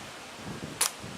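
A single sharp, brief snap from a powerful airsoft bolt-action sniper rifle fired outdoors on a windy day at a pumpkin target, standing alone over a low, steady background rumble of wind.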